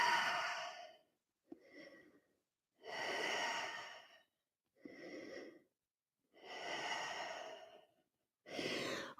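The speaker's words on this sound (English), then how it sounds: "Take some nice deep breaths" Slow deep breaths during a hip stretch in a low-impact cardio Pilates workout, six long audible inhales and exhales separated by brief silences, close and alone.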